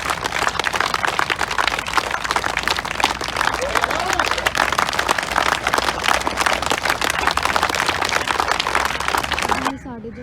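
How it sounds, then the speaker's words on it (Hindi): A group on an outdoor police training ground claps hands steadily after a warm-up exercise, a dense continuous patter of applause running under a loud instructor's voice before cutting off abruptly near the end. "बजाओ ताली,"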